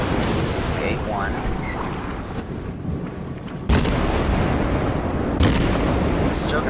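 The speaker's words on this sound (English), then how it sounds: "We're still going to fire high explosive" A Russian cruiser in World of Warships fires high-explosive shells: two heavy booming salvos crack out a couple of seconds apart over a steady roar of engine and sea noise, with someone talking.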